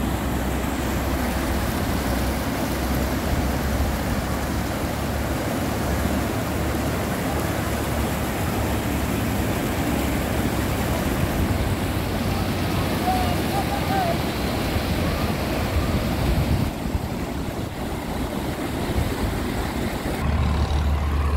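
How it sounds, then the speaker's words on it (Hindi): Floodwater surges beneath a bridge after heavy rain and hail, pouring down from nearby mountains. It makes a dense, continuous roar that stays loud and steady throughout, with no break or change. "यह है पुल के नीचे से गुजरता हुआ पानी।"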